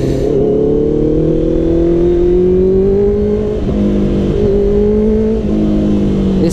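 A Honda CBR650F motorcycle accelerates hard in first gear, its inline engine note rising steadily in pitch with a brief dip near the middle, loud and close throughout, with no talk.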